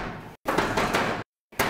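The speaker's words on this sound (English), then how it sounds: "I tried to open the door." Someone tries to open a locked door, giving a loud close rattling thud and scraping burst, then silence, then a second brief jolt.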